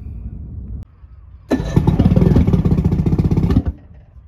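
A troublesome boat engine cranks and catches, roaring into a loud, rattling run for about two seconds before cutting off abruptly; no voices.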